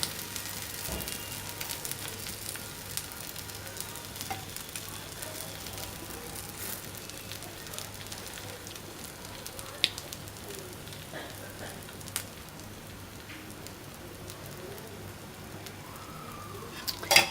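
Qeema paratha fries in ghee on a hot griddle with a steady, soft sizzle and crackle throughout. A few faint clicks and pops come through now and then.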